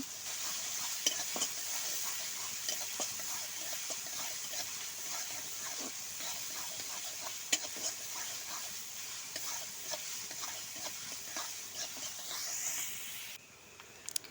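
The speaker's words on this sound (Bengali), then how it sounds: "আমি পেঁয়াজটা ভাজা ভাজা করে নিচ্ছি" Close, continuous sizzling of chopped onions frying in oil for a chicken curry, with repeated scraping stirs spread throughout before the sound drops away at the very end.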